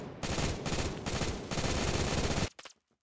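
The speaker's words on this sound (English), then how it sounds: "I'm already getting shot at." In a first-person shooter game, loud automatic gunfire rattles in rapid, continuous bursts, then cuts off abruptly near the end, leaving a brief quiet tail with a last faint crack.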